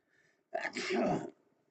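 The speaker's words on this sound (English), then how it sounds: "I felt a sneeze coming." A single sharp sneeze bursts out close by after a short inhale, then fades quickly into quiet.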